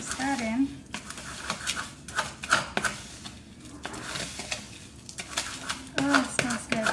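A spoon stirs rose and milk bath-soak ingredients in a bowl, giving a series of light clinks and scrapes in irregular bursts, close and fairly quiet, with a voice talking intermittently.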